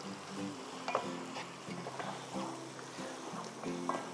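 Macaroni ingredients with turmeric being stirred in a pot, giving a steady scraping and sizzling texture with repeated soft clicks of the spoon against the metal, continuous and fairly close.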